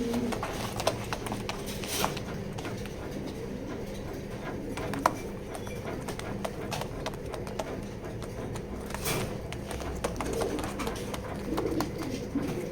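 Racing pigeons in a loft keep up a steady, low cooing murmur throughout, with occasional sharp clicks and taps from the birds moving about nearby.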